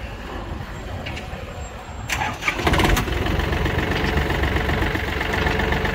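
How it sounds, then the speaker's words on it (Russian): A Yanmar FX265 26 hp Japanese tractor's engine cranks and starts around the two-second mark, then settles into a steady, fairly quiet idle that runs continuously to the end with no talk. "Все отлично запускается, как видим. Тихо, спокойно."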